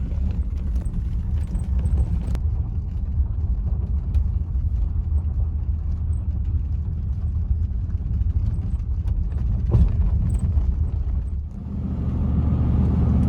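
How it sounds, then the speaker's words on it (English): A Bentley rolls on old Avon tyres over a gravel patch, giving a steady, loud low rumble and crunch that continues without pause, with a brief dip near the end. "we're going round and round on this gravel patch"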